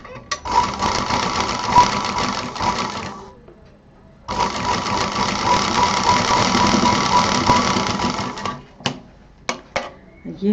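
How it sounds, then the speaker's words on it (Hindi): Sewing machine stitching a fabric hot pot pad: two long, steady whirring runs of stitching separated by a short pause, then a few brief stop-start bursts, loud and close. "अब हमें ये जितने सेंटर हैं इन पे हमें मशीन चलानी है।"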